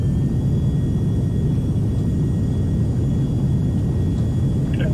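Aircraft engines run at full takeoff power in the X-Plane 11 flight simulator, giving a loud, steady, unbroken rumble with a faint high whine, and nothing else in the mix.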